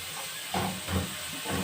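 Onions sizzling in a hot pan, a steady close hiss with a few louder swells of frying spatter, no voices.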